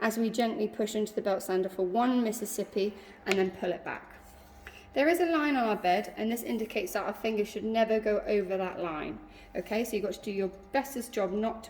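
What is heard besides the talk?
None of the usual background noises is heard.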